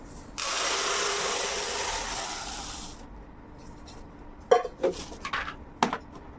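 Toor dal pours into a plastic kitchen storage container as a dense, close rattling rush lasting a few seconds, followed by several sharp plastic knocks and clicks as the container is handled.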